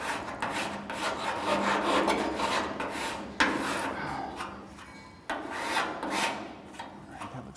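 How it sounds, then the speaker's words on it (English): A hand file rasps a burr off a cut metal edge during fabrication work, loud close strokes in an even back-and-forth rhythm with brief breaks between passes and no voices. "I'll take a file, and just to get it nice and consistent, that little burr off, I'll just take and file that edge a little bit."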